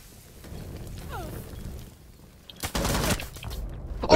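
Gunfire in a video game, a short loud burst of shots in the latter half after quieter rustling game ambience, with another sharp crack at the very end.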